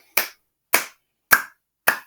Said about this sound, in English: Let me see your alligator clap